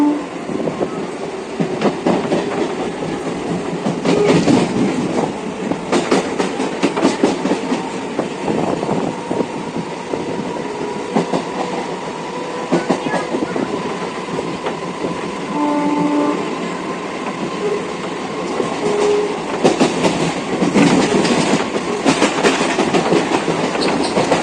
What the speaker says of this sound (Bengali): ট্রেনে করে যাচ্ছি গন্তব্যের দিকে